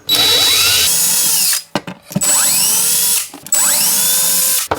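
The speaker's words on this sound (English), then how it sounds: "Drill a few very small pilot holes so that you can screw it to the side of the unit." A power drill whirs in three short bursts with brief pauses between, its pitch winding up and dropping as each small pilot hole is bored into a kitchen cabinet side, close and loud.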